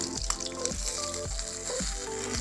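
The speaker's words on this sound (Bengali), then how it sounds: "এইরকম করে লাল লাল করে ভেজে এবার তুলে নেব মাছগুলোকে" Pabda fish fry in hot oil, a steady close sizzle broken by four rhythmic scraping strokes as the pieces are turned and lifted.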